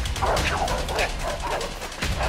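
Pursuing dogs in the video game A Way Out bark and yip in quick, excited bursts, close and loud over a rough, rumbling background.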